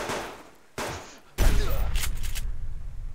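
Gunfire from a hunter in the survival game Subsistence: two sharp shots followed by a loud burst that settles into a rumbling, rapidly fluttering roar.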